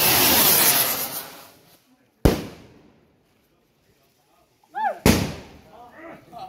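Loud firework rockets go off at a quinceañera celebration after a thanksgiving mass: a big burst fading away, a sharp blast, then a whistling rocket and another blast, with crackle trailing behind.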